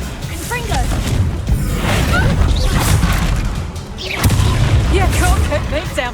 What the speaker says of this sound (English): Expulso!